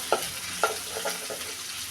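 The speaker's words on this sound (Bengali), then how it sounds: "চিংড়ি মাছ কেটে ধুয়ে বেজে নিচ্ছি" Prawns frying in oil in a pan, a close steady sizzle with two sharp spoon or spatula scrapes near the start and lighter stirring after.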